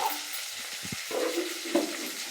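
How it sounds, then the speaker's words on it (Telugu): Tamarind dry-roasting in a pan, a faint soft sizzle with a few stirring scrapes and clicks over a short stretch. "చింతపండు కూడా కొంచెం వేయించేటప్పుడు వేయించుకోవాలి"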